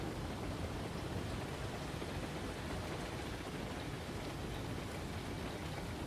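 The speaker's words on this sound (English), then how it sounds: "When it's raining, it gets worse" Steady, even rain hiss from the train game Railroads Online, a constant wash of falling rain with no talking over it.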